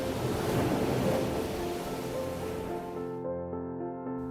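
Animated sound effect of rolling waves for the parting of the Red Sea, a loud, steady rushing surf that swells and then thins into a sustained tonal wash, with no voices.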